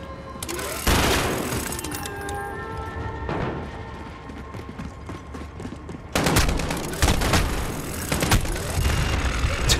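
Loud bursts of rapid gunfire and heavy shots crackle in bunches across a tense firefight in the Modern Warfare video game, with a dense rattling barrage near the end.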